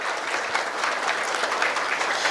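Loud, steady applause from an audience fills the whole stretch, a dense wash of many hands clapping together to welcome an author and his wife at a book event.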